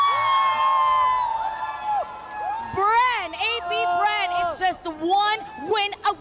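A crowd at the M5 esports knockout-stage event cheers and whoops in rising, overlapping waves of shouting, loud and close, with excited voices piercing through.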